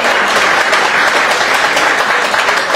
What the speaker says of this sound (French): Est-ce qu'on peut l'applaudir très fort, s'il vous plaît, avant que l'histoire continue?